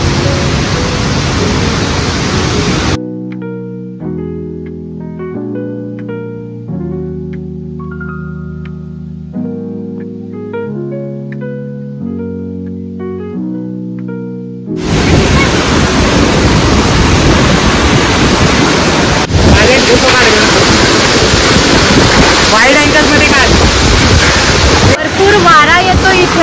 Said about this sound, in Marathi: भरपूर वारा येतो इथे।